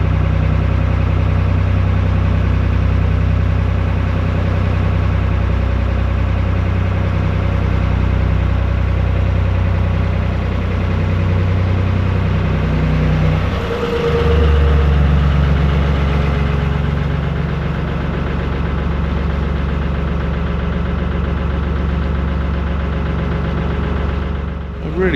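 Canal narrowboat engine running steadily while cruising under a bridge between Rugeley and Handsacre, a continuous low idling drone throughout with a brief thump partway through.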